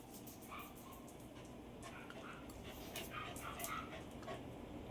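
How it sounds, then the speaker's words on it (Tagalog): A dog barks and whimpers a few times at a distance, short yips scattered over a steady low background hum. "Ang aso ng kapitbahay namin ay nag-iingay."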